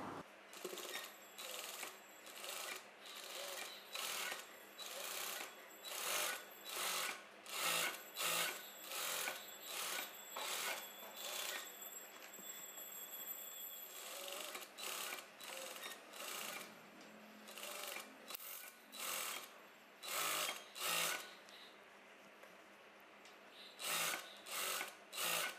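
A sewing machine stitches a cross piece around a blouse neckline in quick, rhythmic bursts, starting and stopping repeatedly. The sound is fairly quiet with short pauses between runs and no talking.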